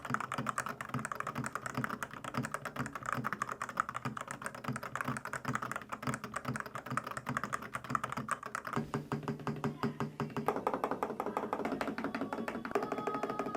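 Steady, fast typing on a Made68 Pro magnetic Hall-effect keyboard, close and clear, with dense continuous keystroke clacks and a slight change in tone near the end, and no talking.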